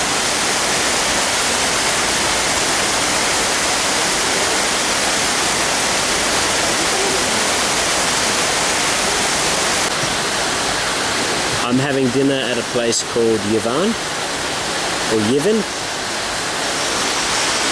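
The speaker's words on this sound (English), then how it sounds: "I'm sitting right near a river." Steady broadband rush of a river flowing beside an outdoor restaurant in Mostar's old town near the Crooked Bridge, constant and close throughout, with someone talking over it in the latter part.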